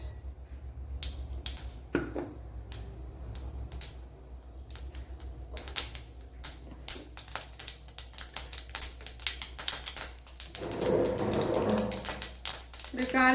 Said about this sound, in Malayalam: ഇവിടെ 1 ടേബിൾ സ്പൂൺ വെളിച്ചെണ്ണ ഒഴിച്ചു കൊടുത്തിട്ടുണ്ട്. അതിലേക്ക് ഇനി കടുക് ഇട്ട് കൊടുക്കുക.